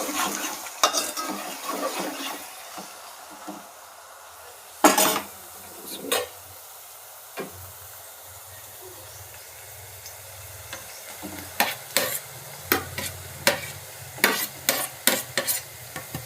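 Tomatoes tipped into a frying pan of onions for a dried fish tomato curry and stirred, with a hushed sizzle under repeated sharp spoon clacks and scrapes against the pan, some in quick bursts, close and without speech.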